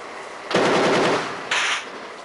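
Machine-gun fire from the Japan Coast Guard patrol vessel Amami at sea, two rapid bursts of gunfire, the first longer, loud and sharp, no voices.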